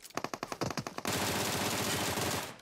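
Rapid automatic FAMAS fire in the shooter game PUBG Mobile: a quick string of sharp individual shots, then a dense continuous burst that rolls on loudly for over a second before tailing off.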